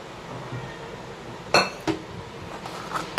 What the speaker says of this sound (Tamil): இந்த டைமில் இந்த சுண்டலை இதில் கொட்டிடுங்க.